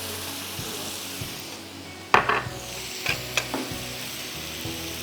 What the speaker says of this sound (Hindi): थोड़ा सा घी जाएगा इसमें, थोड़ा सा डालूंगी ताकि फ्लेवर आए अच्छा।